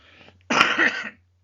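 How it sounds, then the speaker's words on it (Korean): A single short, harsh cough close to the microphone, preceded by a faint breath and followed by quiet. "저도 지금 기침을 하고 있습니다만은"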